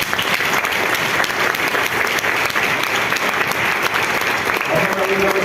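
A church congregation claps loudly and continuously during a Spanish-language service, a dense, full roar of hands filling the room without a break.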